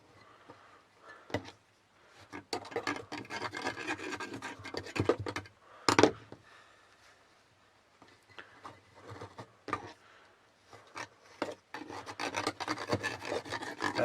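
A screwdriver pokes holes around the rim of a Fancy Feast cat food tin being made into a penny stove: uneven bursts of rasping, scraping metal, close and fairly loud, with short pauses between runs and no talking.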